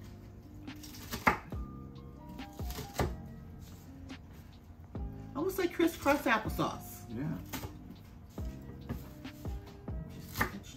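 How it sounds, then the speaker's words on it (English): A knife rough-chops romaine lettuce with a few sharp thuds, then a quick burst of rapid crunchy cuts midway, with people talking over it. "just rough chopping it a little bit."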